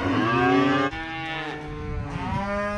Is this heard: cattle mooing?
yes